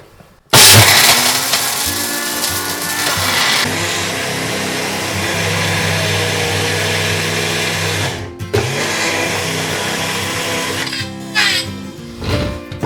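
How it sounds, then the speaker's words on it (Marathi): A mixer grinder powders Konkani (Malvani) masala spices, starting abruptly into a loud, steady whirring grind that runs several seconds, briefly stops, then resumes in short rattling bursts. "आपण या थोडी याची पावडर करून घेऊया।"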